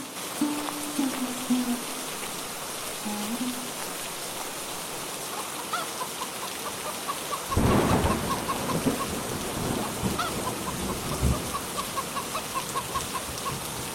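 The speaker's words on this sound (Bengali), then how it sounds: "বৃষ্টি যে শুরু হয়ে গেল" Rain falls steadily with a soft hiss, a rumble of thunder midway, and a rooster crowing faintly in the distance.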